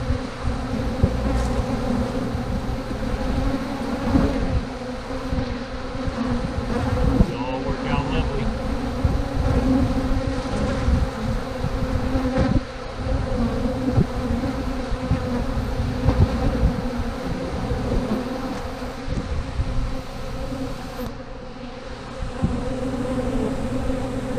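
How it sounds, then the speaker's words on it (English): Many honey bees buzz constantly and close by during cleanup after honey extraction, a thick droning hum that persists throughout with small fluctuations. "There's so many bees, y'all."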